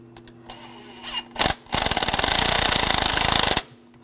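A power tool tightening a bolt on a Mercedes-Benz E350 3.5L V6 engine: a brief blip, then a loud, rapid hammering rattle of about two seconds before stopping, close up with no talking.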